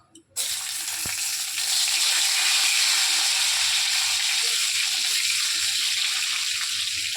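Tomatoes tipped into a hot pan set off a loud, close sizzle that starts abruptly after a short quiet moment and holds steady and dense, with a faint clink early on.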